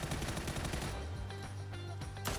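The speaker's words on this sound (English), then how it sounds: "A couple of gunshots." Gunfire in a PUBG esports match rattles in a rapid burst at the start, then scattered loud shots crack over a low in-game hum, with no talk heard.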